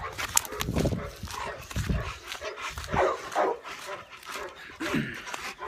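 A trained personal protection dog barks and yips in repeated bursts close by, with some whimpering between the louder calls during a heeling demonstration.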